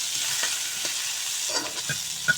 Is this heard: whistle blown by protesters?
no